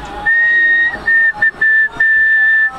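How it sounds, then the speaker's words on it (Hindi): A man whistles a signal in a series of loud, sustained tones: one long note, a few short broken ones, then another long note, heard alone with no talk, within a comic scene from a Maithili village. "एना करू न त हम जे सुस्कारी मार देब सीटी बजाब त अहाँ बुझ लेब की चलि एलै"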